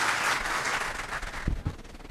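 Audience applause at a retirement party, a full wash of clapping that thins out into a few distinct louder claps near the end.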